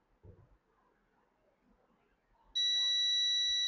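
A multimeter's buzzer, set for continuity testing on a speaker, gives a loud, steady, high-pitched beep that starts abruptly and holds to the end after faint handling noise.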